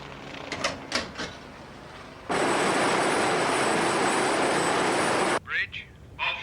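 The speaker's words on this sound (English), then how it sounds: "there's a naval helicopter out here" Naval helicopter flying overhead at sea, a sudden loud broadband roar that lasts about three seconds before cutting off, with brief voices before and after.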